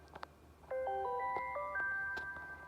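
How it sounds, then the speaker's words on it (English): Samsung Galaxy C4 phone ringtone from 2016–17, a bright electronic melody of short clear tones stepping up and down in a quick phrase, playing alone after a soft click. "Samsung Galaxy C4 ringtones and notification sounds are a mix-up of 2017 and a little bit of 2016"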